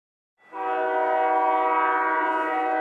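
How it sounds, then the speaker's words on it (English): An empty G Line commuter train passing through Old Town Arvada sounds its horn: a loud, sustained multi-tone blast that starts suddenly and holds steady to the end, with no voices. "A train passing through Old Town Arvada with no one on it."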